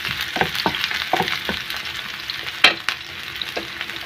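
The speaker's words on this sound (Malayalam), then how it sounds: "എണ്ണയിൽ നമ്മൾ അരിഞ്ഞു വെച്ച ചെറിയ ഉള്ളി ഇട്ട് കൊടുക്കാം. ചെറിയ ഉള്ളി ഇട്ട് ഇളക്കി കൊടുക്കാം." Chopped small onions fry in hot oil for a brinjal stir-fry, a continuous crackling sizzle with sharp scrapes and taps as they are stirred in the pan, close and clear.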